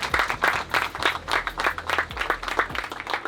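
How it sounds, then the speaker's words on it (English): Audience applause for a hookah team from Slovakia at a hookah battle competition, with steady clapping across the whole stretch over a low hum of background noise. "So make some applause for the team from Slovakia."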